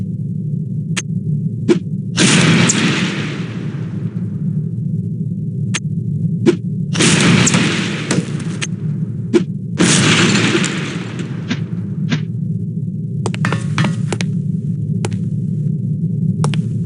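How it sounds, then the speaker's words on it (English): Lipstick-shaped explosive charges detonate in the spy game No One Lives Forever, landing as three loud booming blasts with decaying rumbles over a constant low hum, separated by sharp clicks and thuds. "These relatively inconspicuous-looking lipsticks are actually powerful explosive devices that detonate on impact."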